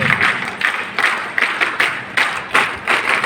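A crowd claps in welcome for the principal of R Kanya Inter College at the closing ceremony of the Arya Veer Dal training camp: loud, steady rhythmic clapping in unison, about two beats per second, without voices.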